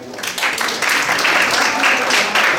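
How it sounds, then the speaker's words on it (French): Guests at a 60th birthday celebration applaud: a crowd of hands clapping in a dense, slightly pulsing wash. The clapping is loud and near and lasts a couple of seconds with no pause. "Merci d'applaudir pour Pamela"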